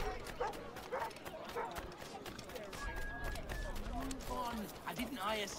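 Dog barking in Assassin's Creed Rogue, a few short barks and yips under excited talking, with running footsteps and hoof-like clatter in the game mix.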